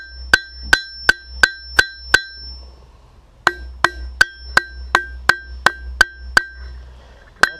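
A blacksmith hammers metal with a rounding-face hammer, striking in a steady series of sharp ringing blows with a brief pause midway, loud and close.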